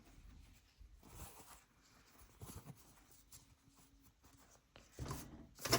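Fabric being torn by hand into a strip, a quiet series of rasping rips and rubs with short pauses, ending in a brief louder tear.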